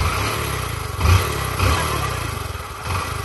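A motorcycle engine runs steadily at idle close by, loud and rough, with a couple of brief rises in revs.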